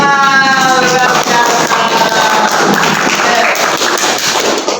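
Audience applause for a presenter at an Indonesian teacher training session, loud clapping throughout, with a brief tonal sound at the start.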